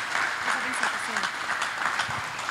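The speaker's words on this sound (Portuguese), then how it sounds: "Pode aplaudir ao Senhor mais uma vez?" Congregation applauding in a church service, a brief burst of clapping with voices and faint speech mixed in underneath.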